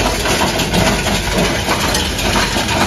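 A vehicle engine rumbles continuously at close range, a steady broadband drone with a low throb and no voices over it.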